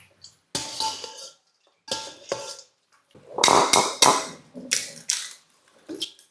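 Brown sugar and boiling water are stirred in a bowl, a utensil scraping and clinking against the sides in short bursts separated by brief pauses.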